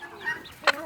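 A rooster on a farm lets out a short burst of close clucking calls, a couple of quick throaty notes in about a second.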